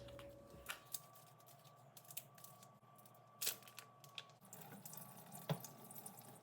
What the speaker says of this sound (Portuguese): a única coisa que eu preciso fazer é passar um pouco de água e desgrudar todos eles